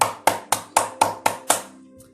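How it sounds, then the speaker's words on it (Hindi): Seven sharp, evenly spaced hand claps, one about every quarter second, loud and close with a short ring after each. The pattern is more like a single person clapping than a broad audience applause, and no voices are heard. "वो आदर्श अहमदाबाद के लिए भी एक बार जोरदार तालियां हो जाए।"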